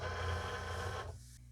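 A Cricut cutting machine slicing glitter iron-on vinyl on a mat, a steady whirring motor hum with buzzing carriage movement that cuts off abruptly near the end, leaving quiet room tone.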